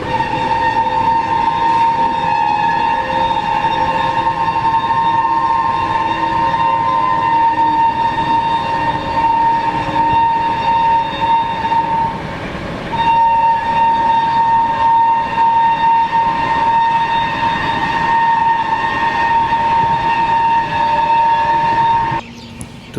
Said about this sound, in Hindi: यहाँ पे ट्रेन का हॉल्ट है नहीं, तो ट्रेन बहुत ही स्लो रफ्तार में स्किप करेगी। हालांकि हॉकिंग कंटिन्यूस हो रही है।